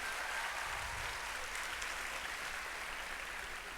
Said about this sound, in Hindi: इन सभी बेमिसाल प्रस्तुतियों के लिए मैं आप सभी से आग्रह करूंगी कि एक बार फिर से जोरदार तालियां हो जाएं